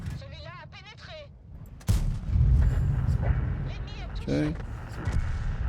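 Tank cannon fire in the World of Tanks video game, a sharp booming shot near the two-second mark followed by a rumbling low tail, with a player speaking briefly and game sounds running underneath.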